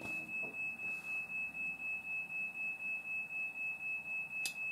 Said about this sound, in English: That's, by the way, the fire alarm.